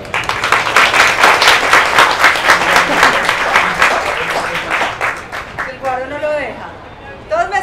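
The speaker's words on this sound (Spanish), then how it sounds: "un aplauso para ti" An audience at a Spanish-language talk on the myths and realities of happiness gives a speaker a loud round of applause with rhythmic clapping, which then fades as a voice begins talking.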